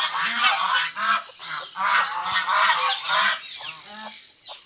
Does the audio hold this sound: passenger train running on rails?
no